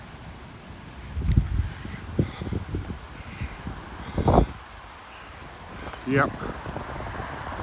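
Heavy rain pours during a thunderstorm in Bangor, Maine, a steady hiss with a few louder splashes and knocks, while someone briefly speaks.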